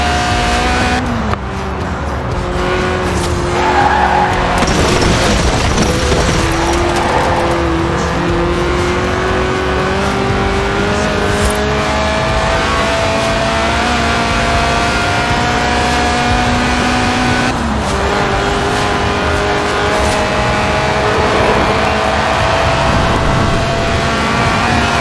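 A Lotus Elise Series 1 Sport 190 in Forza Horizon 4 sliding sideways, its engine revving hard with rising and falling pitch alongside tire squeal, loud and continuous throughout with no talk.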